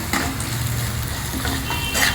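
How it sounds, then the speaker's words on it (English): Chopped onions with a pinch of salt fry in a pan for a North Indian vegetarian dish, giving a steady close sizzle with occasional stirring scrapes and no voices. "I am adding a little bit of salt to help in faster frying of the onions."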